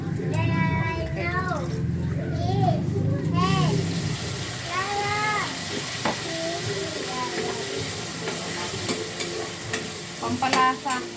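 A green papaya dish is stirred and mixed in a hot pan, with scraping and sizzling close up under frequent talk and whistled or sung tones at the start, the frying hiss steady throughout.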